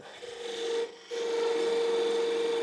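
Wood being turned on a lathe to cut a shoulder for Chippendale highboy turnings: a steady, close rasping hiss with a sustained tone, briefly dropping away near the one-second mark before resuming evenly to the end.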